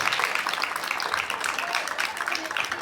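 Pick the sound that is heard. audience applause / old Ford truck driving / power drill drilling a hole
audience applause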